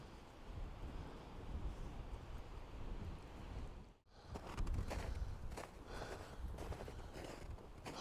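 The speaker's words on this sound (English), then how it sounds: "that wind has started to pick up again" Gusty wind at Lake Haiyaha in Rocky Mountain National Park, a loud broadband rush buffeting the microphone, briefly dropping out midway before surging back stronger.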